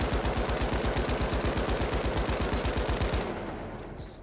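Lewis gun machine gun from The Finals firing a steady, rapid sustained burst of loud evenly spaced shots for about three seconds, then stopping and leaving a short echoing tail.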